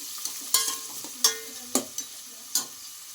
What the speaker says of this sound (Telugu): ఇప్పుడు ఇవి ఫ్రై చేయడానికి వేస్తున్నాం.